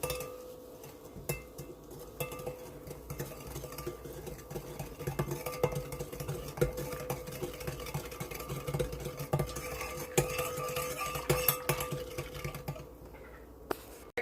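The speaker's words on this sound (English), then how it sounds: "And I go ahead and whisk that up." Whisking batter in a bowl: rapid, irregular clicking and tapping of a whisk against the bowl, continuous and fairly close, with occasional brighter clinks.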